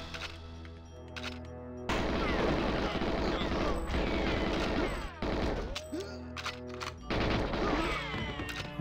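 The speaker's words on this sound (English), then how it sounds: "you can get your gun out and start shooting" Gunfire in the GoldenEye shooter game, loud dense bursts of rapid shooting in several long volleys separated by brief pauses, with crashing impacts mixed in.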